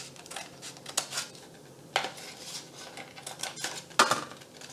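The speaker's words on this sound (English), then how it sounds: "Here, I'm going to cut another one." Craft material is cut into thin slices to make legs for an under-the-sea craft, heard as close, faint snipping and rustling with a few sharper clicks spaced across the clip.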